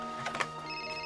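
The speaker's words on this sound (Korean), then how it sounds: "넌 어차피 이 전화 때문에 깨게 돼 있었어" A landline telephone rings in a quiet room in the Korean drama '나인', giving brief ringing bursts over a steady electronic tone at moderate volume, with no talking.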